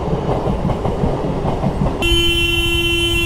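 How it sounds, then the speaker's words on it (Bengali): Local train passing near a level crossing, with a loud rumbling roll of wagons that gives way to a sustained, piercing horn blast at close range. "লোকাল ট্রেন এটা।"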